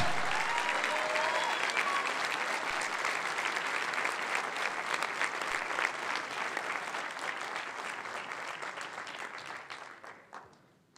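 A church congregation applauds loudly and steadily during a sermon, a dense wash of clapping that slowly thins and fades out near the end, with no speech over it.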